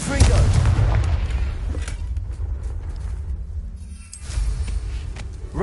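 Confringo blasting spell in Hogwarts Legacy, a loud, close explosive boom at the start that rumbles and fades, followed by a second, smaller burst near the end.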